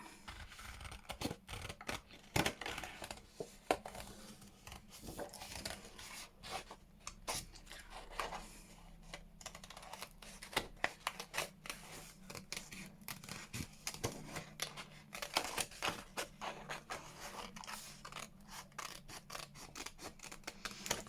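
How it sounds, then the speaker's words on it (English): Scissors snip around paper daffodils in quiet, close, irregular cuts with soft rustling of paper between them, running steadily throughout. "I will fussy cut around those daffodils"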